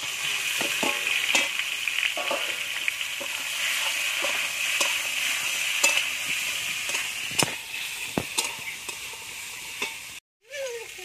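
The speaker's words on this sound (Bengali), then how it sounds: "কড়াই তেল দিয়ে দিয়েছি, দিয়ে দেবো 5 ফোড়ন।" A five-spice tempering crackles and sizzles in hot oil in a wok after fish has been fried. A continuous hiss runs throughout, with frequent sharp pops and stirring scrapes close by.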